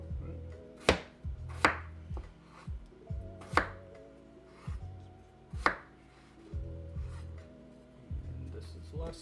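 Potatoes being cut into fries on a cutting board, with several distinct knife chops landing at irregular intervals and quieter scraping and handling between them, close by.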